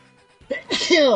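A single sharp sneeze bursts out after a short quiet stretch, loud and close, rising into a bright, noisy rush that holds to the end.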